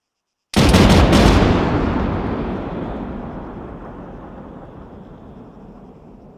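A rifle volley at a memorial service: a single loud, close, near-simultaneous crack, followed by a long rolling echo that fades slowly over several seconds.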